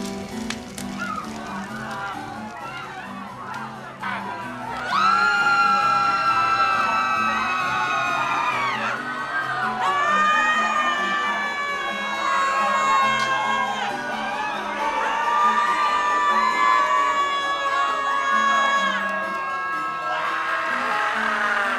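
A large crowd shrieks and yells in a loud, sustained roar of overlapping screams, layered over a dense, low, steady backing that fills the whole stretch.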